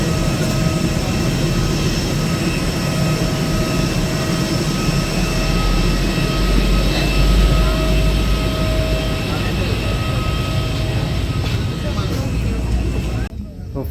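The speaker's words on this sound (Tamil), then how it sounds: "ஸோ இதுதான் Airbus 320 6E0712 Goa to Hyderabad flight." Airbus A320 on the Goa to Hyderabad route, its jet engines giving a steady, loud broadband roar with constant tonal hum throughout, overlaid by background chatter, cutting off abruptly at the end.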